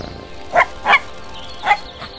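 A cartoon dog gives three short, bright barks, two close together and a third after a pause, loud and near over a soft musical background.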